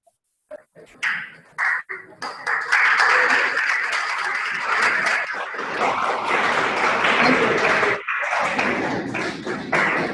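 Applause rises from an audience after an industry expert session on bio energy, starting with a few scattered taps and claps, then swelling into sustained clapping for several seconds before a brief dip and resumption.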